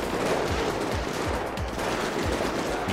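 Rapid gunfire rattles through a police shootout in GTA 5 with the LSPDFR mod, a steady stream of loud repeated shots filling the whole stretch with hardly a pause.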